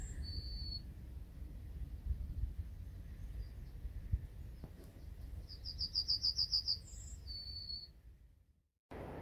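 A songbird delivers its 'little bit of bread and no cheese' song outdoors: a fast, high, bright trill ending in a drawn-out note, moderately distant over a soft background rumble.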